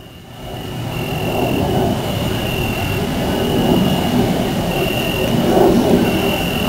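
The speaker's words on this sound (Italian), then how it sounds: "Quindi è passato un jet, in questo momento sta passando, il rumore è diverso." A jet aircraft passing overhead, a steady rising rumble that swells gradually and stays loud through the whole span, with a thin high tone above it.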